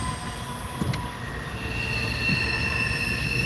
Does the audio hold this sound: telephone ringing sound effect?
no